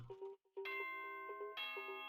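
Announcement chime from the game Danganronpa, a bright sustained bell-like tone that rises in two stepped swells over about two seconds, clear and alone with no talking.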